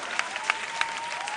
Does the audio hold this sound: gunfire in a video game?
no